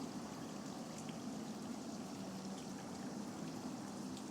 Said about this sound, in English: Why does it sound like running water?